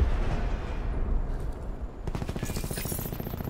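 Rapid bursts of War Machine grenade launcher fire in the Black Ops 4 video game, heard first as dense rumbling booms and then as a sharper, fast repeating salvo that grows louder in the second half.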